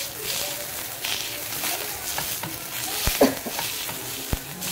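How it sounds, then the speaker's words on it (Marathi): Green chillies pressed and roasted in oil in a pan until crisp, a steady close sizzle with scraping stirs and a few sharp knocks, a voice speaking faintly underneath. "तेल टाकून अशा मिरच्या ह्या प्रेस करून मस्त खरपूस भाजून घ्यायचं"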